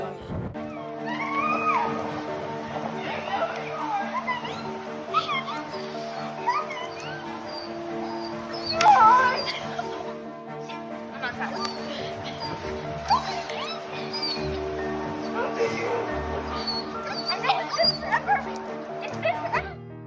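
A dog whimpers and yips excitedly while reunited with its owner, high whines and short barks recurring throughout, mixed with people talking nearby and a steady background of voices.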